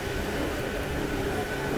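Steady low rumble and hum inside a MEMU train coaching into a halt at Dharmavaram Junction, continuous and moderately loud throughout.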